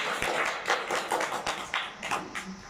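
Audience clapping at a district quiz competition after a correct answer, a short burst of distinct, fairly close hand claps with uneven rhythm lasting under three seconds.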